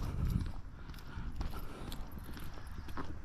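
Hooves clip-clop steadily on hard ground, a horse walking close by with a low rumble of background noise and no talking.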